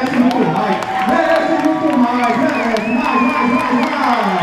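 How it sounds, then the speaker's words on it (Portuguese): Crowd at a Ceará forró championship applauding and cheering a forró performer, a dense, loud wash of voices, whoops and scattered clapping that carries steadily throughout, with no single voice standing out. "Palmas, merece muito mais."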